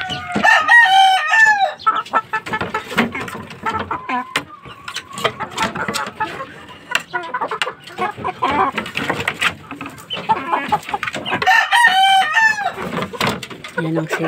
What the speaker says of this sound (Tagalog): Yan ang sisiw namin dito guys.